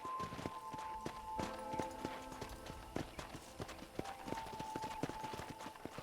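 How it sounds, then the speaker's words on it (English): Horse hooves clip-clopping in Red Dead Redemption, a steady walking rhythm of close, distinct hoof strikes over a quiet ranch ambience, with faint musical tones underneath. "let's see if you can still ride a horse."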